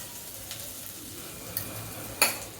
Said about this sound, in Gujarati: ફરી પાછું એને હલાવી દો જેથી કરીને હળદર ચડી જાય અને મિક્સ થઈ જાય